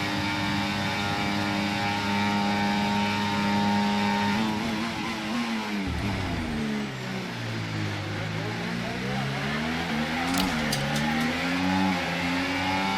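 A Formula 1 race car engine in F1 24 screams at high revs under throttle, then drops and climbs again through rapid gear changes, loud and continuous with a whining, sweeping pitch throughout.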